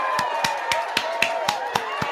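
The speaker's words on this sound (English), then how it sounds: "Studio audience, I want you to clap." A studio audience on a gaming podcast claps in sharp, evenly spaced beats, about eight or nine claps in a steady rhythm, close and fairly loud over a faint background tone.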